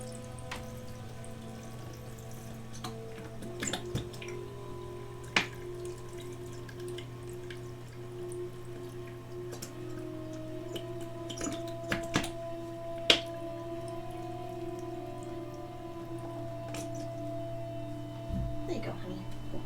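A small motor in a cat's water fountain bowl hums steadily and quietly close by, with light drips and occasional clicks over it.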